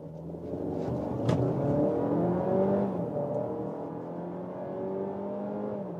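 A 1.5-litre TSI petrol engine in a 2024 VW Tiguan revs and accelerates steadily, its hum rising in pitch through the gears, heard from inside the cabin with no talk.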